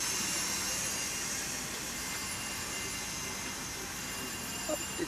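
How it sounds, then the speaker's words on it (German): A railway turntable rotating at a railway depot during an autumn festival, a continuous loud mechanical rumble and hiss that holds steady throughout, with a couple of faint knocks near the end. "Die Drehscheibe fährt andersrum."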